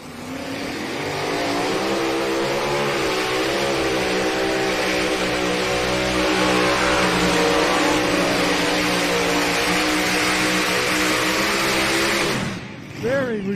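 A mini-class pulling tractor screams at full revs through a whole tractor pull run at an NTPA Grand National event in Hutchinson, MN, the sustained loud engine wail holding steady for about twelve seconds before dropping off abruptly.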